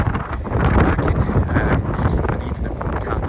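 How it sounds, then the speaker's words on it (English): Strong wind buffets the microphone in a constant low rumble and roar, close and loud throughout. "It is very windy."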